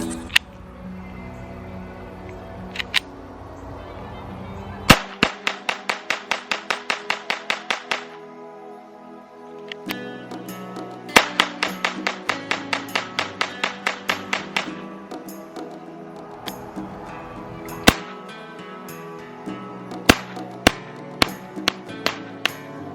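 A Taurus TX22 .22LR pistol fires two rapid strings of a dozen or so sharp cracks each, with scattered single shots before, between and after, loud and close with no talking.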